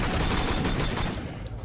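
Rapid bursts of gunfire from the video game Sleeping Dogs, a dense, loud fusillade that fills the moment and tapers slightly toward the end.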